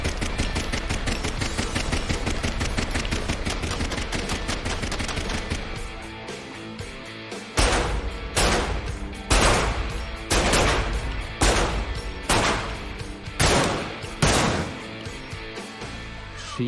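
Gunfire at History Channel's Top Shot shooting competition, a series of sharp, loud shots at a steady rhythm of roughly one every second, with a dense, busy background before them and no talk.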